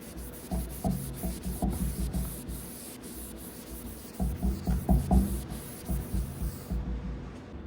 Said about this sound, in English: I used my round burr to open up the holes just a little bit more